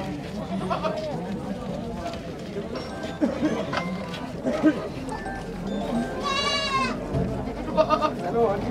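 Goats bleating at a livestock goat market, several short bleats rising over busy crowd chatter and people talking close by.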